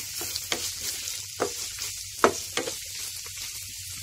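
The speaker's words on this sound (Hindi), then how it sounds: "चिकन भी हम इसमें अच्छे से भून लेना है।" Chicken sizzles in a pan while being sautéed for a mayonnaise chicken pasta, a steady close frying hiss broken by a few clinks and scrapes of stirring.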